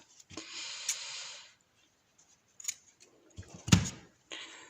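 Scissors cutting crochet yarn close by while finishing a crocheted dachshund beret, with a longer rasping snip followed by several short, sharp cuts and clicks of the blades, heard alone.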